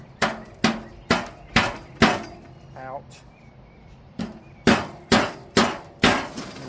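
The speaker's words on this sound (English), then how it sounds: "I just don't like beating on them with a metal hammer" A steel hammer bangs on a car part in a garage, about a dozen sharp metallic blows in two rhythmic bursts with a pause between, and a voice briefly in the gap.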